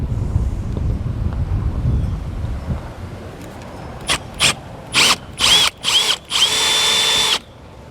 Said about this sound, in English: Now that I have my hole marked, I can go ahead and use a drill bit.